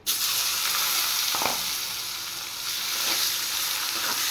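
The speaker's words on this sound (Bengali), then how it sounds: "এবার পেঁয়াজগুলো ভেজে নেব একটু।" Chopped onions fry in hot oil with bay leaf, whole dried red chillies and whole cumin, giving a steady, loud, continuous sizzle close by with faint stirring and no voices.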